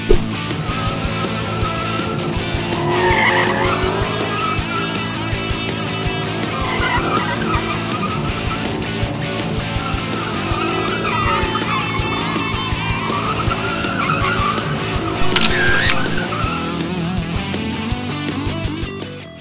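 A pace car spins donuts, its tires squealing and skidding almost without pause over a droning engine that rises and falls, loud and close for the whole stretch.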